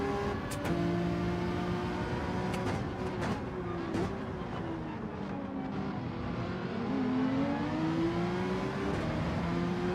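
Ferrari race car in Gran Turismo 7, engine droning steadily with shifting pitch as it revs through gears and exits a corner, other cars' engines blending in, no talk.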